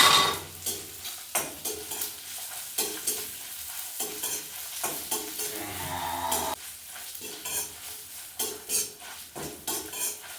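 Mustard seeds and curry leaves sizzle in hot oil with a bright, steady frying hiss, broken by repeated sharp crackles and metal spoon scrapes and taps against the pan.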